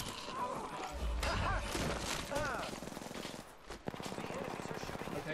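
Rapid automatic gunfire bursts and impacts crackle through a squad match of the Apex Legends video game. Dense, loud shooting fills most of the clip, dropping briefly before resuming, with some players' voices mixed in.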